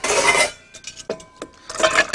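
Frozen coffee ice cubes are tipped out of a tray into a bowl in a kitchen, landing in several loud clattering rattles with brief clinks between the bursts.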